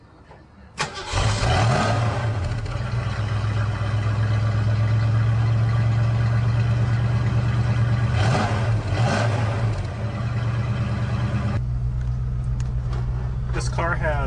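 A 1964 Ford Mustang engine cranks and fires, then settles into a steady loud idle and rev as the car pulls away in second gear, with a second surge of revving midway.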